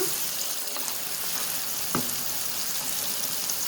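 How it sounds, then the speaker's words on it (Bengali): Beef and onions sizzle steadily in hot oil for beef bhuna, a dense continuous frying hiss with a couple of faint utensil knocks against the pan. "পেঁয়াজগুলো একটু কষানো দেখুন মাংসগুলো তেলের উপরে"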